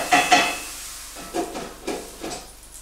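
Vegetables, golden cauliflower among them, sizzle in a pan on the stove while a utensil stirs and scrapes. There are a few quick clinks early on, then several soft stirring strokes spaced apart.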